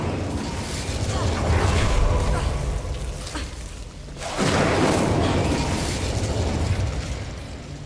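Incendio fire spell cast in Hogwarts Legacy, a sustained whooshing burst of flame that swells twice, loud and close, with a voice speaking around it.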